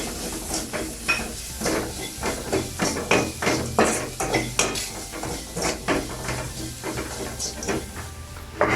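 A utensil stirs a vegetable patty mixture of salt and chili pieces in a bowl, making steady, rhythmic scraping and clinking strokes, close and moderately loud.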